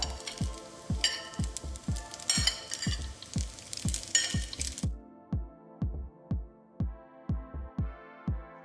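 Thinly sliced salmon hits a pan, its sizzle fading quickly while a regular series of knocks, like a spoon or spatula tapping the pan, continues in a steady rhythm.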